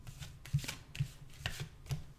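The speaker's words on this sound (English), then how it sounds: "So I'm just gonna do a little more shuffling" Tarot cards are shuffled by hand, close and soft, with a repeated riffling snap roughly every half second over a faint steady background hiss, no talking.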